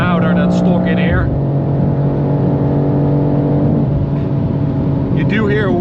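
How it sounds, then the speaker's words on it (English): A BMW M2 G87 roars at full throttle on the Autobahn, heard from inside the cabin as a loud, steady engine drone that climbs in pitch, with someone talking over it. "here we go, full throttle. Very nice sound. It's definitely louder than stock in here."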